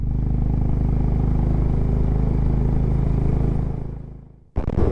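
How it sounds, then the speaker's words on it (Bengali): A Honda H'ness motorcycle engine thumps steadily and loudly at close range while riding on the road, dipping briefly in level near the end before resuming. "হেলমেটের ভিতর দিয়ে হাইনেসের থাম্পটা যা লাগে শুনতে"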